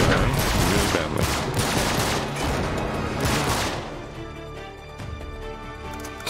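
Rapid pistol gunfire in the Uncharted 3: Drake's Deception video game, a dense run of loud, close shots for about four seconds that then fades into a quieter tail.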